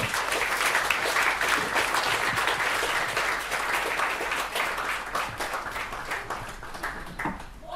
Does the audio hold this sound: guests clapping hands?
yes